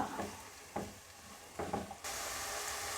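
Sliced onions being stirred and fried in a pan for a potato and brinjal curry: a few soft scraping stirs over a low sizzle, then a steady brighter hiss for the last second, with no talking.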